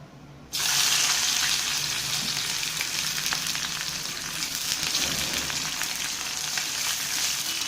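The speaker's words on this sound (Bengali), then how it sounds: "পেঁয়াজটাকে আমি একটু লাল লাল করে ভেজে নেব।" Onions drop into hot mustard oil in a wok for mutton keema curry, bursting into a sudden loud sizzle after a brief quiet start and then hissing steadily.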